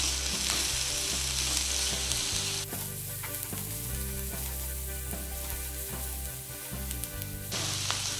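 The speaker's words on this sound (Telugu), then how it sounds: "ఇలా ఆనియన్ కొంచెం మగ్గాక కొంచెం అల్లం వెల్లుల్లి పేస్ట్ వేసి బాగా మిక్స్ చేద్దాం" Chopped onion frying in oil with ginger garlic paste stirred in while cooking dhaba-style aloo gobi, a steady close sizzle with scraping stir strokes and a brief quieter stretch midway.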